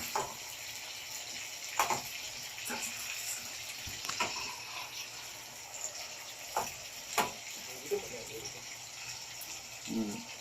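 Chicken 65 pieces fry in hot oil with a steady, close sizzling hiss and scattered small pops, while a voice speaks faintly now and then.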